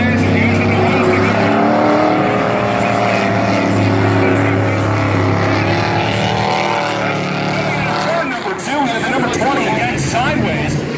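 Dirt track race cars at Valley Raceway roaring around the track, loud sustained engine drone with shifting pitch as cars pass, under continuous commentary.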